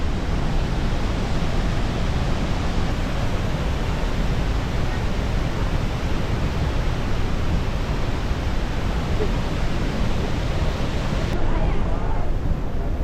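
Niagara Falls roars with a broad, constant wash of thundering water, loud and unbroken throughout, with wind buffeting the microphone.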